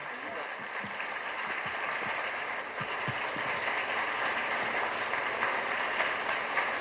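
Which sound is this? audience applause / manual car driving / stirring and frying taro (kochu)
audience applause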